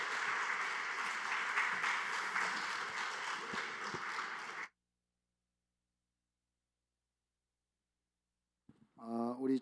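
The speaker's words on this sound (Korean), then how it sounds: "우리 목사님 모실 때 뜨거운 박수로 영접하도록 하겠습니다" A church congregation gathered for an anniversary revival service gives a steady, dense round of applause to welcome the pastor. It runs for several seconds and then cuts off to silence, and a voice begins at the very end.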